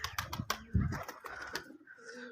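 Pigeons coo in low, throaty bursts, close by, with some scattered clicks and rustling between the calls; one pigeon had suffered from heat the day before.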